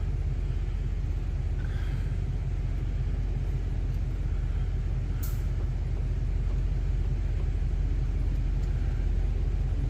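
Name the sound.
Chevrolet Express van with 4L80E transmission backing up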